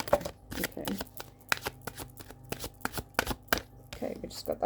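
A deck of Wishcraft Oracle cards by Stacey DeMarco is shuffled by hand in quick, irregular bursts of crisp riffling and slapping, close up, with a voice faintly present at times.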